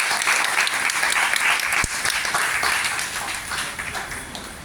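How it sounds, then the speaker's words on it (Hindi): Dense, sustained audience applause at a Ram Katha religious gathering in Ayodhya, greeting an honored guest; steady broadband clapping from a large crowd that fades slightly toward the end. "आप सभी ताली बजा करके उनका स्वागत करें"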